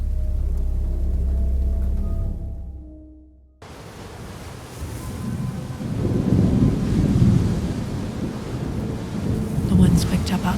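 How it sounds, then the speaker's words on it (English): A raging thunderstorm with heavy rain: a low rolling rumble of thunder fades out, then a loud steady downpour hisses in with deep swelling rumbles beneath it, near and continuous. "outside as the storm raged on"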